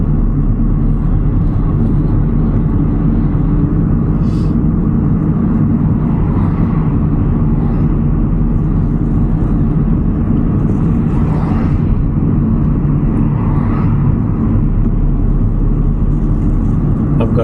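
A car drives along a 30 mph road on a driving test route in Didsbury, its steady loud engine and road rumble continuous throughout, with faint passing traffic now and then.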